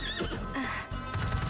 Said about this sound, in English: It's the same horse sound effect.